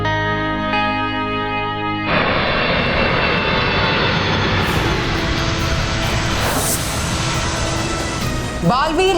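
An airplane engine roars loud and continuous after a brief tonal lead-in, with a rising whine and echoing swell near the end, inside a fantasy television show scene.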